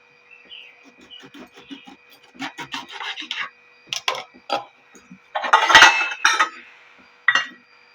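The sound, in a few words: cutting lemons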